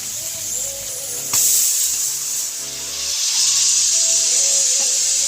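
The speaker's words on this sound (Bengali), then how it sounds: "একটা সিটি পড়েছে, আর একটা পড়বে" Steam hisses loudly and steadily from a pressure cooker cooking dal, the whistle's sharp rush surging partway through and holding close and strong until it cuts off.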